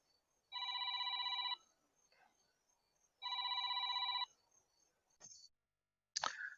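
A mobile phone rings indoors, two loud bursts of a bright electronic trilling ringtone separated by a short pause, followed by faint handling noises.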